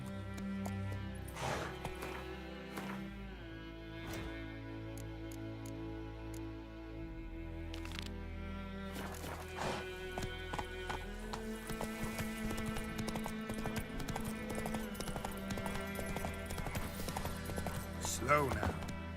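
Horse hooves clip-clop at a gallop in the video game Witcher 3, a steady rhythmic pounding that runs under music, with a whinny and a voice talking along the way.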